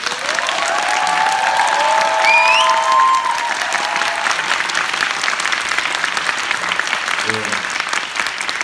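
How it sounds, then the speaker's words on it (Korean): A theater audience gives a big round of applause for the eight ensemble actors at a final-performance stage greeting, sustained clapping throughout with a few brief whistle-like tones early on. "저희 8명의 안상분들에게 여러분 큰 박수 부탁드립니다"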